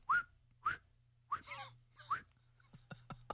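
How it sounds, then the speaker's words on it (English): Four short rising whistles in a hallway, evenly spaced and fairly close, followed by a few faint clicks and breathy sounds in a quiet space. "I think someone's whistling at me."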